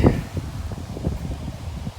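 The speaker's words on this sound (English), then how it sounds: "Sorry about the wind, guys. It is crazy windy right now." Gusty wind buffets the microphone, making a steady low rumble that rises and falls, with faint rustling underneath.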